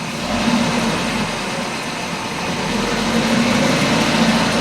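A 2003 Nissan Frontier 2.4L engine running at about 1,000 RPM in first gear, a steady loud drone with a constant low hum and no change in pitch.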